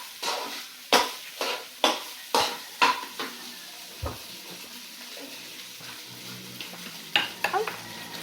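Food cooking in a pan at home, a series of sharp, evenly spaced scraping and stirring knocks against the pan over a soft sizzle, pausing midway before a few more clatters.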